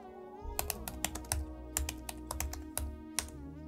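Keys on a computer keyboard are tapped quickly to type a command, a close, quiet run of crisp clicks over a soft background hum.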